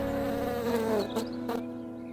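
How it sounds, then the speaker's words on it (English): A cartoon insect character's wings give a steady, close, droning buzz that holds for about two seconds on its own. "Oh, no. You are not a bird, Buzz. You are an insect"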